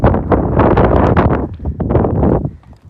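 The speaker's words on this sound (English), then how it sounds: "it's getting windy again" Strong wind buffeting the microphone outdoors, loud low rumbling gusts that roar continuously and ease off at the end.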